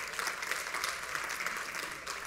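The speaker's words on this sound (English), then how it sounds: "Y'all might want to stop clapping." An audience claps steadily in a church setting, a dense continuous patter of many hands filling the space with no talk over it.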